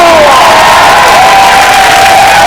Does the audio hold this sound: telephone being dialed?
no